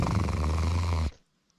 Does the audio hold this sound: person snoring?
yes